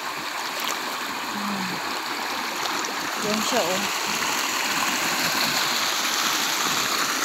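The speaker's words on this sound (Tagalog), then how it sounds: "Ang lakas ng daloy ng tubig." Strong floodwater current rushes steadily past, a constant hissing, gurgling wash of moving water with people talking over it.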